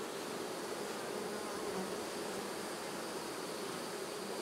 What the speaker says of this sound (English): a colony that's bursting with bees